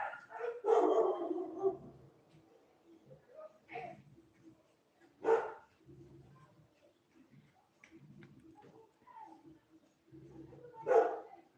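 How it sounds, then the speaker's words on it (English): Several neighborhood dogs bark in scattered bursts, some loud and close, others fainter, with quieter gaps and a few yips between; no one talks over them. "What's happening now? The neighbor's dogs."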